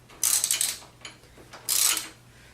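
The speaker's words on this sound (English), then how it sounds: "have an extender for the ratchet so I can get a little better position" Ratchet with an extender loosening the brake pedal bolt on a Honda VT600 motorcycle, giving two bursts of bright clicking mechanical noise, close up, separated by a pause with faint lighter clicks.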